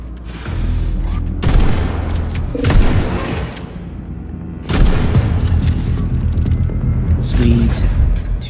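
Shotgun blasts in the video game Atomic Heart, several heavy booming shots with rumbling tails spread across the span, loud and close with mechanical game noise between them.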